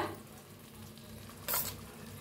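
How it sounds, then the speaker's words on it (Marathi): Bottle gourd sabzi with crushed peanuts being stirred in a pan, a close scraping stir over a soft sizzle, with one louder brushing scrape about two thirds through. "भाजीला मिक्स करून घेऊया"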